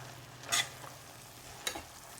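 Gongura leaves go into oil with browned garlic and fry at a quiet, low sizzle. Two brief, bright bursts of crackle rise above it, and there is no talk.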